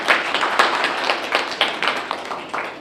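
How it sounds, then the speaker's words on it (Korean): An audience at a labour policy forum applauds a speaker's introduction, a dense wash of many hands clapping that stays steady and fairly loud, then fades slightly toward the end. "큰 박수 부탁드리겠습니다"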